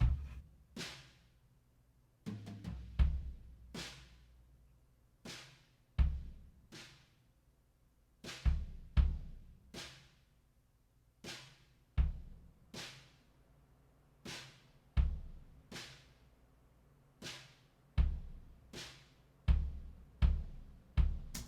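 A drum kit plays a steady groove heard from a distance through a room mic in a roomy space, sharp snare and kick hits ringing out with natural reverb.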